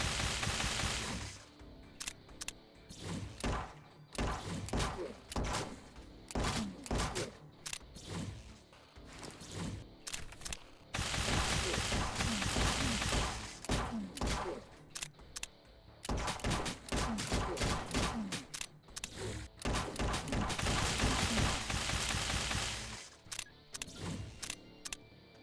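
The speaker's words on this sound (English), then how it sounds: "you can very quickly run out of ammo if you just keep firing" Rapid gunfire from a zombie survival shooter video game, with dense repeated volleys of shots in long bursts broken by short pauses, loud and continuous.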